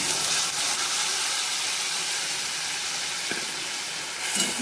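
Ground spice paste sizzling in hot oil in a wok after bay leaf, dried chilli and five-spice tempering, a loud, steady hiss and crackle close by with no talking.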